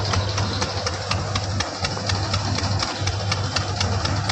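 A tractor engine idles steadily up close during groundnut harvesting work, a low rumbling drone with a regular ticking knock running through it, no voices.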